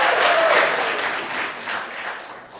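Applause from the audience at a haiku reading, strongest at the start and thinning and fading over a few seconds, with clapping close by and no talk.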